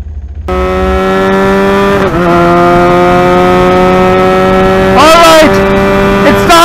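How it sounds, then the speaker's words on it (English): A Benelli 302R and a KTM RC 390 race each other, their engines roaring loudly and up close with sustained high revs and a few sharp gear-change dips, and a louder rev surge near the end. "it's time for a friendly race between the Benelli 302R and the KTM RC 390"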